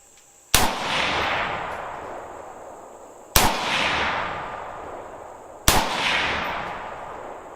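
Three loud, sharp rifle shots from a JRA Gallant Gen II during test firing, evenly spaced a few seconds apart, each with a long echoing tail; no voices.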